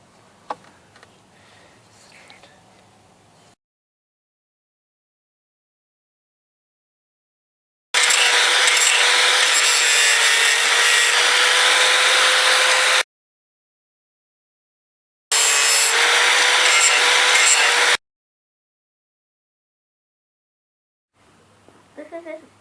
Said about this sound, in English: I'm going to use the grinder to grind the screws